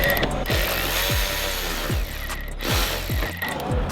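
Screw being backed out while removing car interior trim to hardwire a radar detector, rhythmic ratchet clicks in repeated strokes about every half second, close and clear with no talking.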